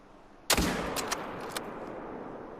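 A single loud rifle gunshot fired at a fallow deer in a hunting video game cracks sharply, then rolls away in a long, fading echo over quiet outdoor ambience.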